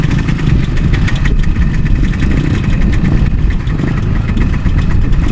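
Kawasaki motorcycle engines idling and revving at a motorcycle festival, a loud, steady low-pitched rumble with a rough pulsing texture, close by and continuous throughout.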